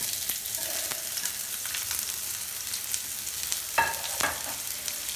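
Chopped onion fries in hot refined oil for masala bread, a continuous close sizzle with scattered pops and a couple of sharper clicks or scrapes, no talking.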